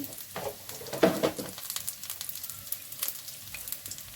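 Potatoes fry in a pan with turmeric, producing a close, steady crackling sizzle with irregular popping spits and stirring noises throughout.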